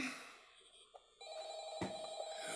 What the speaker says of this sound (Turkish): oh hani telefon var